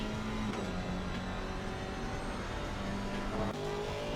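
A Porsche GT4 race car in a sim racing game holds a loud, steady engine drone with slight pitch shifts, continuous and close, as though heard from on or near the car.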